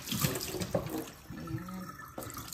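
Water runs from a kitchen tap in short, uneven bursts, close by and moderately loud, with splashing into a sink and no talking.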